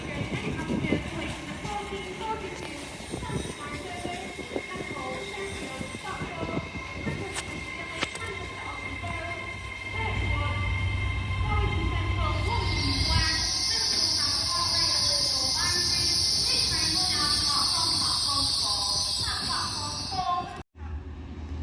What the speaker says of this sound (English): Passing through now is a LNER Zuma from York to Neville Hill